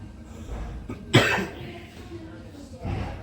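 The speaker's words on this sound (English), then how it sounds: "Still got a cough." A young boy coughs once sharply and close, followed by a lower throat-clearing sound near the end, over quiet room noise.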